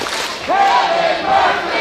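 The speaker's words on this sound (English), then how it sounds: "Just listen to that crowd" Wrestling arena crowd roaring during a Fatal 4 Way grudge match, a loud swelling mass of cheers and shouts that rises sharply halfway through and stays dense and sustained, with no one talking over it.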